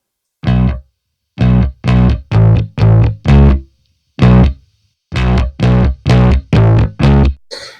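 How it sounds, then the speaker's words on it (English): Guitar played through a Moog filter with distortion pushed hard by raising the output knob: a series of loud, gritty, saturated chords or notes in short bursts with brief gaps, no talk. "You can crank even more the distortion of it by moving out the output knob"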